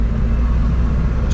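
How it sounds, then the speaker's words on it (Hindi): A 2023 Mahindra Bolero Maxx HD pickup, unloaded, accelerating in third gear from about 20 km/h, heard as a loud, steady, close engine drone and rumble with no talk. "अगर आप तीसरे गियर में हैं, सपोज 20 की स्पीड पे, तो ऐसे ही रफ्तार पकड़ती है।"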